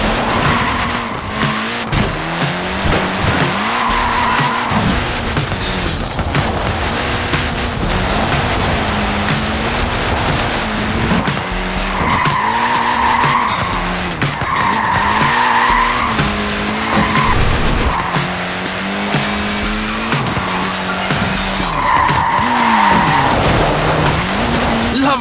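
Tyres squeal and skid repeatedly on a small, short-wheelbase front-wheel-drive car in the Forza Horizon 4 racing game, loud and sustained over a steady engine drone, with someone talking throughout.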